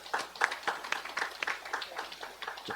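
Audience applause at a Korean leadership forum lecture for heads of government agencies, congratulating a speaker on a creativity award; a steady patter of many hands clapping at moderate volume, fairly distant, with no talk over it.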